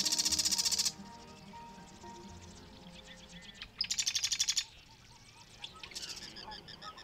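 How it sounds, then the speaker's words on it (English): Wrens hidden in a reedy marsh east of the mountains sing in loud, fast trilling bursts, a few separated phrases standing out over a busy background of other bird calls. "Wrens."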